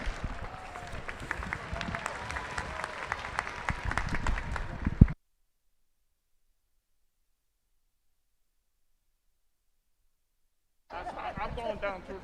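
A crowd at a cancer walk and run ceremony claps and cheers in a lively burst for several seconds, then falls silent before a second short stretch of crowd noise returns.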